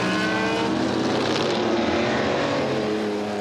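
An AC Cobra and a Porsche 910 race at Spa during the Tour Auto, loud engine roar that holds steady at close range throughout, with no talk.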